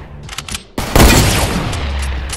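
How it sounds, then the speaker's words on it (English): A sniper rifle shot in Fortnite: quiet movement sounds, then one sharp, loud crack with a booming tail that rings out and fades slowly. "you sniped that"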